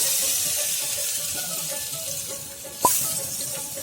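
Boiled eggs and potatoes coated in salt, turmeric and chilli powder frying in a pan on a gas stove, a soft continuous sizzle with one sharp clink or pop near the end.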